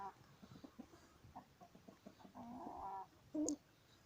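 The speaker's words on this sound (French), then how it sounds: "Vous voyez la beauté de ce coq aussi." A crossbreed rooster clucks softly outdoors, a few short calls ending in one louder, sharper cluck.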